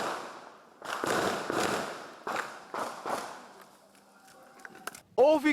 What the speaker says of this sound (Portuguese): Houve correria em meio à troca de tiros.